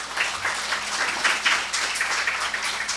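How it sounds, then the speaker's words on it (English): An indoor audience gives participants a round of applause, a dense steady patter of many hands clapping for the whole stretch. "a hearty round of applause"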